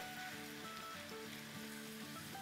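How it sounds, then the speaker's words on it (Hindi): Ginger, garlic and green chili paste frying in a pan for prawn pulao gives a continuous, soft, even sizzle with no talk. "चलें इसको हम 30 सेकेंड फ्राई करेंगे।"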